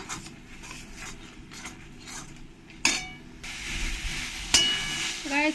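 Spiced masala for a tilapia and mankochu curry fries in oil, a steady close sizzle and hiss with occasional sharp stirring scrapes and clinks of a utensil against the pan.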